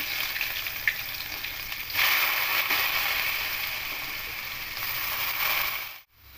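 Squeezed banana flower stem hits hot oil in a pan and fries with a loud, continuous hissing sizzle that briefly drops away near the end.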